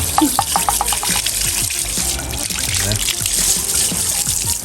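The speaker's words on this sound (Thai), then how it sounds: "เครื่องฉีดแรงดันน้ำ เนี่ยโอเค เดี๋ยวฉีดนี่ล้างฮะ" Pressure washer jet spraying water over an engine to clean it, a steady hissing wash with trickling and splashing under intermittent talk.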